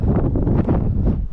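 Strong wind gusts roar loudly and continuously across the microphone outdoors while fishing, buffeting steadily throughout with no speech.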